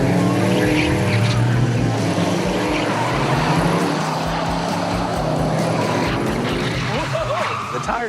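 A De Tomaso Pantera's engine runs loud and steady, close by, its low rumble continuous throughout, with tires on the old side and voices talking over it.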